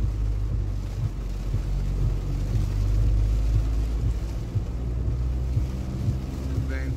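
A fire brigade water-rescue inflatable boat's motor hums low and steady beneath gusting wind noise during severe weather, with faint voices in the background.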